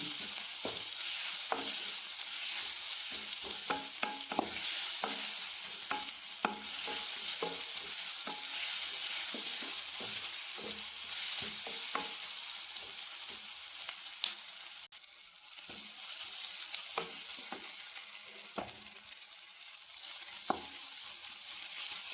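Food frying in ghee for egg rice, a continuous bright sizzle with frequent clicking scrapes of a spatula stirring the pan, heard up close and without talk throughout.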